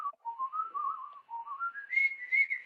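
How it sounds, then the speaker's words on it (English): A clear, close whistled melody, with tones gliding up and down in short phrases and rising toward the end. "how'd you learn to whistle like that?"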